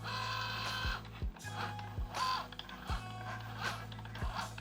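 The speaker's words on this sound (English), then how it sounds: "I'm gonna send this through the Cricut Joy without a mat because I'm using smart materials" A Cricut Joy cutting machine cuts smart iron-on vinyl without a mat, giving a quiet mechanical hum broken by regular whirring motor sweeps and soft clicks about once a second.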